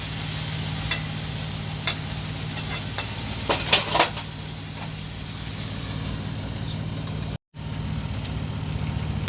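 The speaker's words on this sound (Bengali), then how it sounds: "বন্ধুরা মাংসটা কষা হয়ে গেছে, দেখুন তেল ছেড়ে দিয়েছে।" Mutton kosha fries in oil in a pan over medium heat with a steady sizzling hiss. A utensil clinks and scrapes against the pan several times early on, then the frying continues alone.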